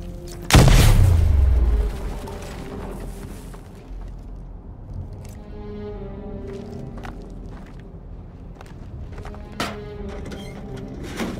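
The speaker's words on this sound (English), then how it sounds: "apply the explosive directly to destroy that wall" An explosive blows up a wall in Batman: Arkham Knight, a loud close boom with a deep rumbling tail that fades over a second or two, followed by scattered clicks and debris.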